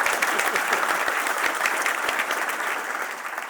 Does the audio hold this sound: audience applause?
yes